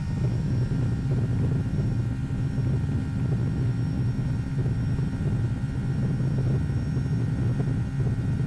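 A Boeing 757 airliner in X-Plane 11 runs reverse thrust after landing at Faro, a steady loud low engine roar and rumble that holds evenly throughout without pause.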